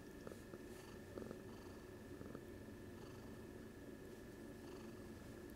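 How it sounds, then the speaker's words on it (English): A pet cat purrs steadily and softly up close, a continuous low rhythmic rumble with a faint constant hum in the background and no talking. "she's purring away"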